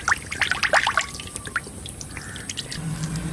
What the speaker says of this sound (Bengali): চপ ভাজার জন্য তেল দিচ্ছি,